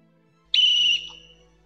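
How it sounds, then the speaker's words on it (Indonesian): A single sharp whistle blast, loud and steady for about half a second, then fading quickly into quiet. "Perhatikan peluit."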